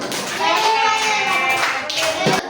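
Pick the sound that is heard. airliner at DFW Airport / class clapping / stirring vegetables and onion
class clapping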